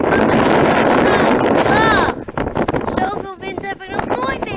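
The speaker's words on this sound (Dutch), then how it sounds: "maar wat een wind, wat een wind, wat een wind!" Strong wind buffeting the microphone outdoors, a loud roaring rumble that dominates the first half before dropping into gusty bursts, with people talking through it.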